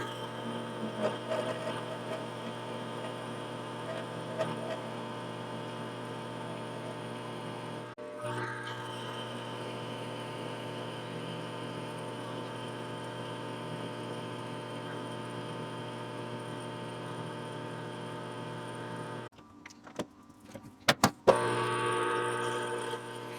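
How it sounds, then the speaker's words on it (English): A GM distributor shaft is machined down on a lathe, giving a steady mechanical whine and hum for most of the time, then a sudden stop followed by a few clunks and knocks near the end. "I am going to take and machine down an area here, machine that down really thin"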